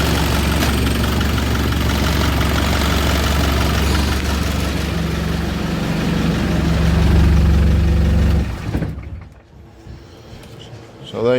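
Land Rover Series 1 with a 200tdi diesel engine conversion idling, a loud, rattly low rumble close by that holds steady and then drops away near the end, with a voice speaking over it.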